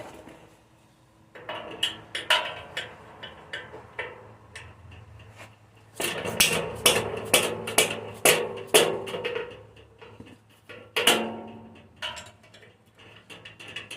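Metallic taps and knocks strike in irregular bursts as a hammer frees a tight part on a 1986 Troy-Bilt Horse rear-tine tiller, including a quick run of sharp hits, close and clear against a low background hum.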